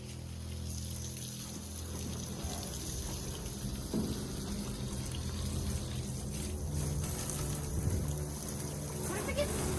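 A continuous spray of water runs over an old truck body to wet it before washing, a steady hiss heard from nearby with a low rumble underneath and talk on top.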